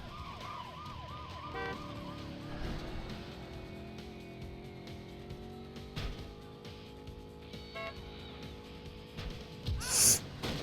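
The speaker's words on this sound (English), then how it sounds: "Good news, that was the ambulance." An ambulance siren from the Cruis'n arcade racing game wails steadily over the game's engine drone and music, fairly quiet, with a brief burst of game effects near the end.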